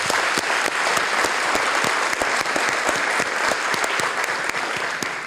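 Steady applause from a conference audience on universal health, dense overlapping claps with sharp individual hits, sustained and close, with no talk over it.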